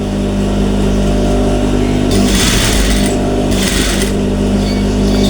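A sewing machine stitching a blouse runs at a steady, loud whir, with two bursts of higher, faster stitching around the middle before settling back to the constant hum.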